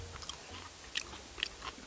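Sea snails (whelks) tossed with wild chives being chewed up close. Soft, moist chewing with a few sharper crunchy bites stands out over a quiet background, with no talking.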